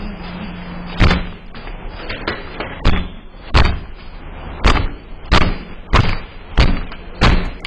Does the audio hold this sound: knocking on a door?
yes